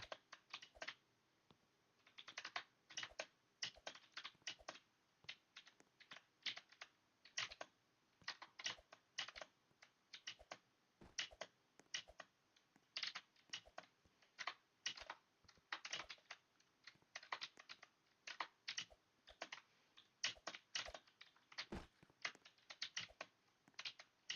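Steady, rapid computer keyboard typing, close and moderately quiet, a continuous stream of crisp key clicks with brief gaps, no voices.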